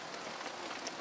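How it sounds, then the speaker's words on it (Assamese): Rain falls in a steady, even patter on a surface, a soft continuous wash of drops with no voices over it. "আজি বৰষুণ দি আছে"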